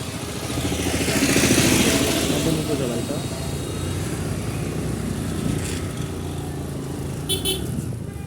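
A motorcycle rides along a road near a village market, its engine a steady close drone with wind rush throughout, and a brief horn toot near the end.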